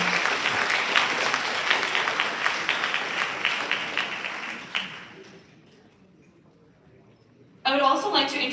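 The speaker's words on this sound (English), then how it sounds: "please give a big round of applause for Sri Vite Shivakumar" Audience applause for a guest at a live evening event, a dense steady wash of clapping for about five seconds that fades into near silence before a fresh burst of clapping rises at the end.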